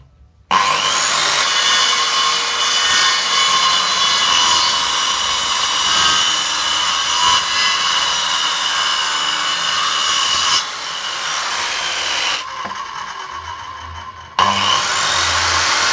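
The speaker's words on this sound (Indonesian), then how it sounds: "ini kita langsung kita gergaji guys" A handsaw cuts through wood to form a carpentry corner joint, a loud, steady rasping that runs continuously for most of the stretch, dropping briefly near the end before resuming.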